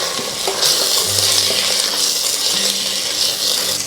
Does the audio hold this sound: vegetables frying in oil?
yes